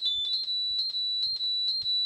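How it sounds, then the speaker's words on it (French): Fire-alarm-style electronic beeping blasted through a loudspeaker, a steady high pitched tone broken into repeated pulsing bursts, loud and close with no talking. "C'est comme les alarmes incendie qu'il y a dans les..."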